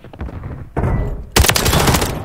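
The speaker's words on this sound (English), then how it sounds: "As you can see clearly, the gun has a fast fire rate and a quick time to kill." AMR9 submachine gun in a video game firing rapid automatic bursts, loud and close, with two sustained strings of shots separated by a brief gap.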